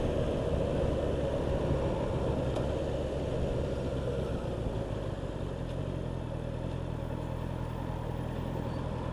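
Honda CBR650R motorcycle from 2024, fitted with an E Clutch, riding in top gear: a steady, loud engine drone with heavy wind rush that holds constant from start to finish.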